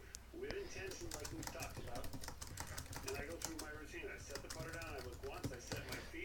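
Rapid typing on a computer keyboard clatters steadily throughout, with a voice talking over it.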